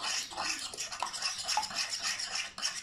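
A spoon stirs drops of liquid into a mixture in a nearly empty pot, giving a steady run of light scraping and clinking strokes close by, with no voices.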